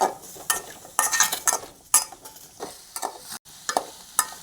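Tomato chutney ingredients frying in oil, with a soft sizzle under repeated scraping and stirring strokes from a spatula in the pan, heard close up and without any talking.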